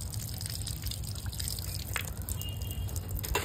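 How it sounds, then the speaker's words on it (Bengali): Water splashes and drips steadily while a muskmelon is rinsed outdoors on a rooftop, a continuous close wet patter with a few brief louder trickles, no talking. "আমরা এগুলি সব ধুয়ে পরিষ্কার করে নিচ্ছি"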